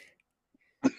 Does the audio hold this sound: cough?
yes